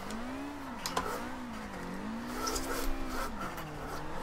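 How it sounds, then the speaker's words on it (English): An off-road drift car in Forza Horizon 2 spins its tyres, the engine note rising and falling with light skidding, moderately loud and alone. "So it's got the absolute tyre spin now"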